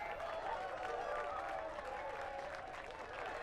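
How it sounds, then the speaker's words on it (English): Crowd of cold fans cheering and applauding at the luge medal ceremony in the Torino 2006 PS2 game, a steady even wash of clapping and cheering held at a distance for the whole stretch. "Look at the cheering fans, they're cold."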